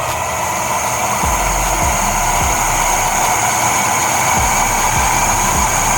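The G70 e-bike's hub motor spins freely at top speed with no load, a loud, steady high-pitched whine and hum with a few faint low thumps, no voices.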